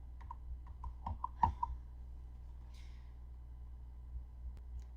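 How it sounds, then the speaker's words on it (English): Keys on a worn computer keyboard that sticks are tapped in a short irregular burst of close, soft clicks, then go mostly quiet over a steady low hum. "My keyboard is not working all that great. It's getting stuck."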